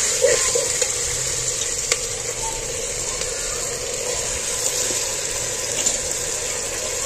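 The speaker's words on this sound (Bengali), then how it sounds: "নাড়াচাড়া করে ভালো করে কষিয়ে নিতে হবে" Mutton with spices sizzles and fries steadily in a pan while it is stirred, a loud, close, continuous hiss broken by occasional scrapes and knocks of the spoon.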